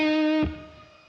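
An electric guitar chord rings through a NUX Verb Core Deluxe pedal on its Simmer reverb, a bright sustained tone that cuts off at once and leaves a soft fading ambient tail.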